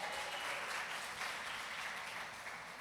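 A church congregation applauds, a dense, sustained wash of clapping from many hands that fills the space evenly and tapers slightly toward the end, with no voices over it.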